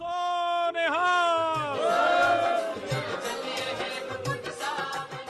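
Sikh pilgrims starting the foot journey to Gurdwara Sri Hemkunt Sahib raise loud Jaikara slogans, a crowd of voices swelling into sustained, ringing chanted shouts that stay strong and dense throughout.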